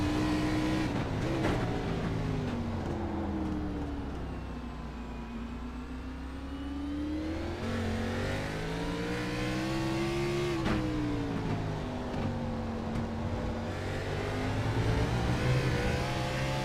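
Stock car engines in a Vertex Stock Car Cup race at Brands Hatch, loud continuous engine roar rising and falling through gear changes and revs, heard close as if on board, with no talk.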